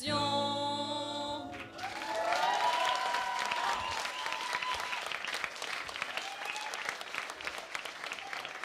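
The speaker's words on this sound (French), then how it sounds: "on peut encore les applaudir à nouveau" Applause from an audience at a political rally between rounds of the 2022 French legislative elections, a dense, steady clatter of many hands following the fading end of a song, with scattered voices in the crowd.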